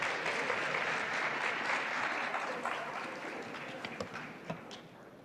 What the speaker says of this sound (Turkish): Alkışlarla Banu Hanım'a ve Harun Bey'e çok teşekkürler